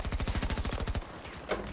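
Rapid hip-fired bursts from a PBX-45 in Battlefield 2042, a quick string of loud, evenly spaced shots that stops abruptly, followed by a short gap and a single louder shot.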